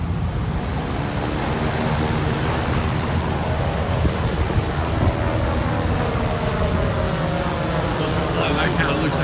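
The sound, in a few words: Walmart delivery drone taking off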